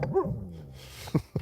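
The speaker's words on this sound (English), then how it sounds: "Hey, what you barking at?" A dog barks outdoors near a fishing spot: a whining yip at the start, then two short sharp barks close by, fairly loud against a quiet background.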